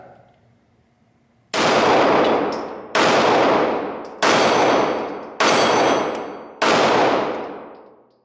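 Five loud, sharp Glock 45 pistol shots ring out at a target, each a close, cracking report with a fading ring, spaced roughly a second or more apart after a quiet start.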